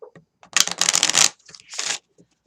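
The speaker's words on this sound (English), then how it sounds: "I'm going to shuffle again, and I'm going to put out 3 cards." Lenormand cards being shuffled by hand, two close crisp bursts of riffling paper flutter separated by a short pause, with a few small taps and handling noises around them.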